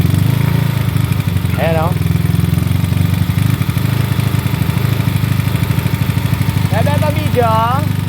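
A motorcycle engine fitted with a flat slide carburetor runs loud and close, its steady rumble surging as it is revved, while someone talks over it.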